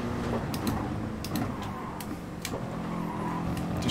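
Race car engines drone under tire noise in Gran Turismo Sport at Bathurst, a continuous low engine hum with a few sharp brief clicks and scrapes, moderately loud and unbroken.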